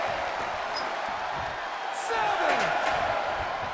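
Arena crowd roaring at a WWE 2K22 Last Man Standing match between Brock Lesnar and Roman Reigns, a steady loud wash of cheering that swells slightly midway, with a commentator talking over it.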